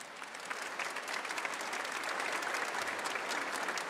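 A congregation fills a basilica with sustained, dense applause, steady and loud throughout with no talk over it.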